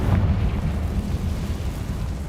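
A Confringo spell blast in Hogwarts Legacy, a deep, loud rumbling explosion that swells at once and keeps roaring steadily through to the end, with no one talking.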